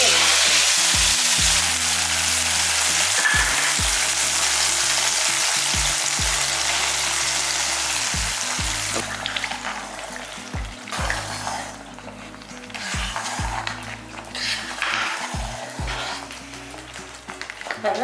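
Raisins fry in ghee in a pan for temple-style sweet pongal, a steady bright sizzle that is loud at first and then eases off after the stove is turned off, with a low hum underneath.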